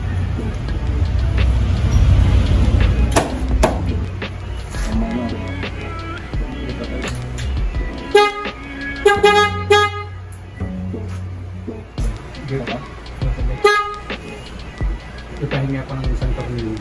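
Several short car horn honks, a couple of brief beeps around the middle and another later, over a busy background with people talking.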